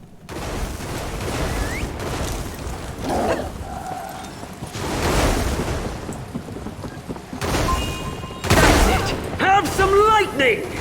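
Thunderstorm in The Elder Scrolls Online with heavy rain and booming thunder cracks, loud bursts over a steady downpour, while voices talk over it.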